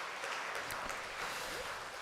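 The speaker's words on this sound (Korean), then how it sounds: "위로의 박수를 드리도록 합니다" Church congregation clapping in encouragement during a Sunday worship service, a soft, distant wash of applause lasting a couple of seconds, faint and steady with no voices on top.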